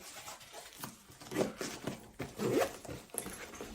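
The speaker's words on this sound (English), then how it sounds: "It starts to zip from here." Zipper on a Sleepypod Air pet carrier being drawn open in several rasping pulls, close and fairly loud, with short pauses between strokes.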